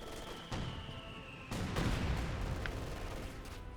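A landmine detonates after a stray mortar shell lands in the WWII strategy game Company of Heroes 2, with a sharp blast around the midpoint and rumbling booms and crackle from distant battlefield artillery around it.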